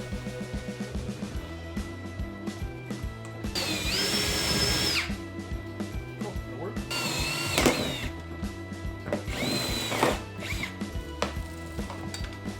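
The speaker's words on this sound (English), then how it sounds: "I got the hole drilled here" A power drill bores a hole in a chicken feeder, whining in several bursts of a few seconds each, with rattling and clatter between them and no talk.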